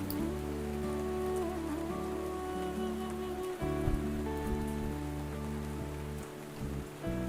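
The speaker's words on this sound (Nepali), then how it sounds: "वर्षाको पानी झनै जङ्गल सुसाएर चौपट भएको छ" Rain falls steadily on jungle beside the Gandaki river at Tulsighat near Pokhara, a continuous broadband hiss with a constant low rumble, probably from the rushing river, beneath it throughout.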